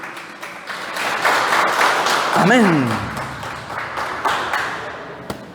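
Church congregation clapping in a round of applause, a dense moderate wash of claps rising and fading across several seconds with voices calling out over it and a brief sliding tone in the middle.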